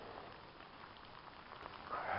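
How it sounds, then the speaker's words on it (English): Rain falls outdoors as a soft, steady hiss, fairly faint and continuous, growing slightly louder toward the end with no voices. "Still raining."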